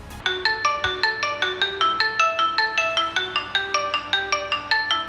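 A Mi Watch Lite find-phone alert rings as a phone ringtone: a bright, repeating electronic melody of rapid evenly spaced tones, loud and clear with no talking.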